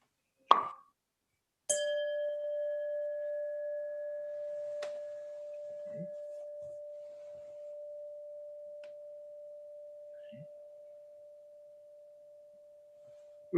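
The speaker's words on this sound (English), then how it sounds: "Ooh, nice gong." A single struck gong rings out with a long, pure sustained tone that slowly fades over many seconds, with a few faint clicks in the quiet.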